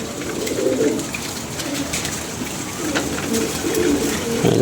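Pigeons coo steadily in a loft, a dense chorus of low warbling calls rising and falling at moderate distance over a constant background hiss, without speech.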